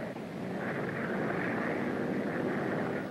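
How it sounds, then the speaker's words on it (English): A propeller aeroplane drones steadily overhead on a night in New York City, a broad, sustained engine roar holding even throughout with no voices. "I can see him coming now, Mr. McAllen's aeroplane"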